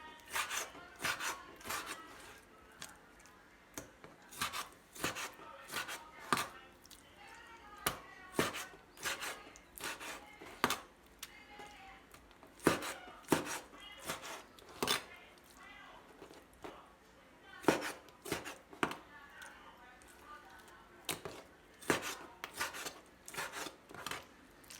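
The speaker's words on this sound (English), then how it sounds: "cut these lobster up" Knife chopping lobster into pieces about an inch thick, a steady series of sharp, close taps and cuts on a board, irregular in rhythm, with faint rustling between strokes.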